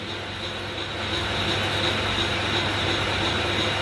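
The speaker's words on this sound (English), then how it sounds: "The slideways are moving on the bed, the carriage is moving on the bed" Steady mechanical rumble and hum of a vintage metal lathe carriage sliding along the bed, a continuous even drone that rises slightly and holds with no talking.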